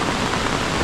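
Steady light rain falls during a typhoon in the Philippine provinces, a dense, even hiss with no break, close and fairly loud.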